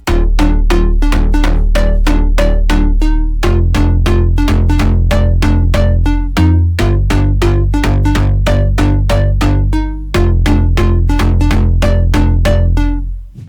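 A bright synth melody plays loud and steady over a deep bass, with evenly spaced plucked notes in a repeating pattern and a brief break in the middle.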